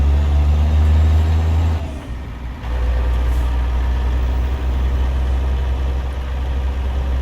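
Heavy truck engine idling loudly in American Truck Simulator, a deep steady rumble with a dip around two seconds as the window closes, then a continuous muffled drone from inside the cab.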